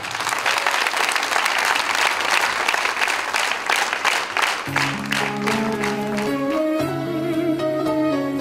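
Loud, dense applause from a live concert audience at Arena Live fills the first half, then fades under musical tones that begin partway through.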